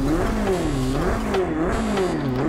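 A Renault Clio Cup race car engine in the Project Cars 2 racing game revs up and down continuously, its pitch rising and falling in smooth waves. The engine is loud and steady, with no speech over it.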